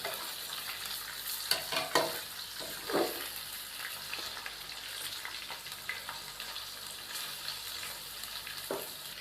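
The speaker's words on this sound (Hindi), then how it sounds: "चिकन शामिल करने के बाद हम चिकन की भुनाई कर लेंगे अदरक लहसुन के पेस्ट के साथ ही" Chicken frying with ginger garlic paste in a pan, a steady broad sizzle with occasional stirring scrapes and pops, moderately close with no talking.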